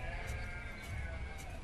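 Sheep bleating on a pasture in the city-building game Banished: a steady, wavering bleat under a constant wash of game ambience and music.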